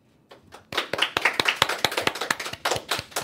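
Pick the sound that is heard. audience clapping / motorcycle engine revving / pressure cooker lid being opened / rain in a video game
audience clapping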